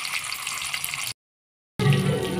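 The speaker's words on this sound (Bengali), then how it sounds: "এবার পটলগুলো ভেজে নেব" Pointed gourd (potol) slices frying lightly in hot oil with only salt added, giving a steady close sizzle broken by a brief silent gap before the crackle resumes slightly louder.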